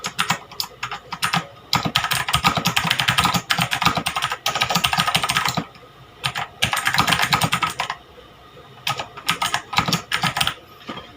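Rapid typing on an HP GK100 keyboard with Otemu Blue switches gives dense, clicky keystrokes in bursts separated by short pauses, close and loud with no talking.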